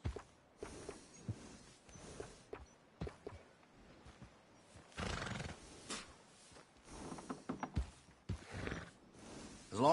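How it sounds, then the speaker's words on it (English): A horse snorts and shifts in Red Dead Redemption 2, short breathy bursts scattered through the clip, moderately near and soft, with a voice speaking in between. "This is a real good battle horse."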